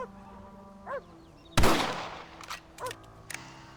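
A single sharp rifle shot in the Red Dead Redemption video game cracks loudly and decays briefly, with faint chirping ambience before and after.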